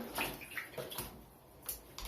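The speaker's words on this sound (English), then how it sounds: "carefully splash it over top of them so that the fur is full wet" Bathwater scooped and splashed over two guinea pigs in a shallow tub, giving a few soft, close splashes and trickles with drips running off between them.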